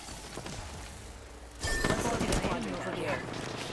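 Rapid bursts of gunfire erupt in a battle royale match as a player fires at a team relocating across the circle, the shots coming dense and sharp over a continuous game background.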